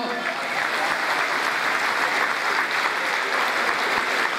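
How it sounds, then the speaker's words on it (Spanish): A crowd at an anniversary dinner applauds loudly and continuously, a thick wash of clapping with faint voices underneath. "Aplaude al que entregó el guiso."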